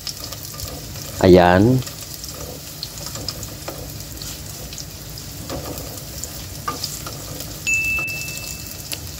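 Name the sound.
sautéing ginger and garlic in a pan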